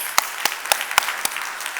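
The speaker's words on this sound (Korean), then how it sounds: "우리 하나님께 영광의 박수" A church congregation claps in unison during a sermon, five or six sharp, evenly spaced claps ringing out in a steady rhythm with no voices over them.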